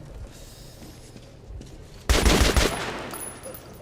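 A quiet stretch with faint background noise, then a sudden loud burst of rapid gunfire in the video game Metro Last Light that rattles on for about a second before fading.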